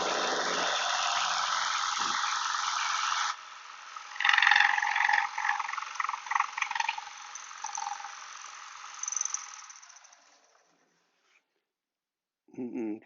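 A Shopsmith 18-inch jigsaw cutting 3/4-inch plywood gives a steady buzzing whir that turns into uneven bursts of rasping cuts, then stops and goes quiet before a short burst at the end.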